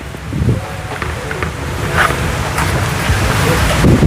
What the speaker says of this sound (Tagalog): Lumakas yung hangin, mga kabayan.